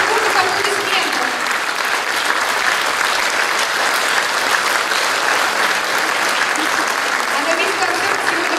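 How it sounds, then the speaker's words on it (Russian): A concert audience at a children's choir recital gives a long, loud round of applause for the piano accompanist, dense and unbroken throughout, with a voice speaking underneath. "Она достойна очень крутых аплодисментов."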